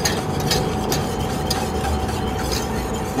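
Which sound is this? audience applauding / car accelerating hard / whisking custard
whisking custard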